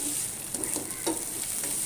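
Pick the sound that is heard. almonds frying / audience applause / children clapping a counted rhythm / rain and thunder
almonds frying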